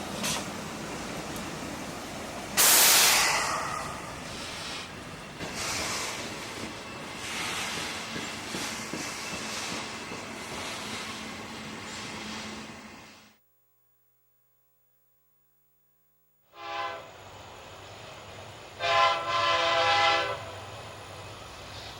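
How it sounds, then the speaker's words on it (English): A CSX freight train, X129, rolls through the village of Trenton on the Henderson Subdivision, its horn sounding loudly once before a steady rumble and clatter of cars, with a break and then renewed rolling noise and ringing tones. "X129, the second section of the previous train R129, rolls through the village of Trenton while a northbound TV train sits in the siding"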